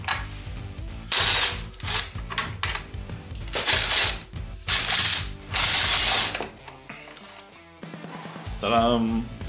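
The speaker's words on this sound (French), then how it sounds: "on va finir avec l'outil électrique pour nous donner un petit coup de main" Electric power tool running in loud bursts while working on Polaris RMK SKS snowmobile parts, with ratcheting, whirring spurts separated by short pauses and a brief mechanical clatter near the end, close to the microphone.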